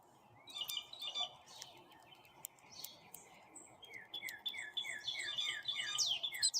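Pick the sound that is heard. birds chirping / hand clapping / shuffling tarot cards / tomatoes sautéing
birds chirping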